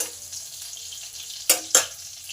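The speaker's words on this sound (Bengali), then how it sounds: "আদা, জিরে, লঙ্কা, হিং সুন্দর করে ভেজে নিতে হবে" Ginger, cumin, chilli and asafoetida sizzle and crackle steadily in hot oil, with two sharper bursts of spitting as something is stirred or added.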